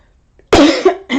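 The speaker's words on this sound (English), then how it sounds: "I want to cough so bad." A few sharp, close coughs in quick succession, with a short pause before a final cough, loud and with no talking.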